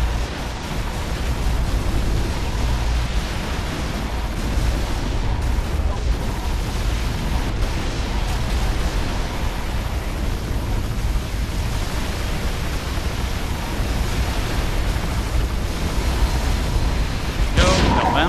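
Cannon towers fire in the Defense Grid 2 video game, a dense, continuous barrage of rumbling booms and noisy blasts that runs throughout at a steady loud level.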